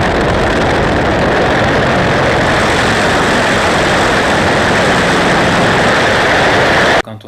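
A powerful aerobatic plane's piston engine roars loudly and steadily while lining up for takeoff at Cahors, heard from inside the cockpit, dense and unbroken until a sudden cut.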